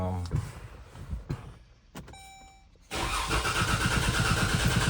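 A car engine cranks with its fuel pump relay unplugged, the starter giving a rapid, pulsing churn. After a short lull, a louder, steadier mechanical drone follows, with a voice heard over it.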